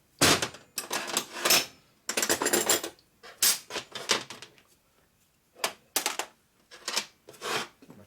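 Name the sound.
torque wrench tightening cylinders on a 1946 Knucklehead motor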